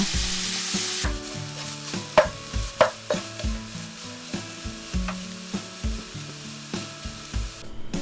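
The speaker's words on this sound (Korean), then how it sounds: "이 당근채도 볶아주세요. 역시 살짝만 볶아줍니다." Shredded carrots are stir-fried in a pan with a sizzle, as a utensil scrapes and taps rhythmically against the pan, close and clear with no talk.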